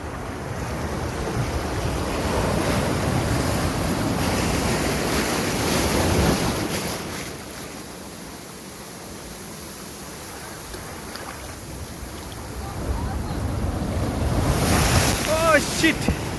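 Sea waves surge and crash at Muttam Beach in Kanyakumari, loud and near with heavy wind buffeting the microphone, easing midway before building into another crashing surge.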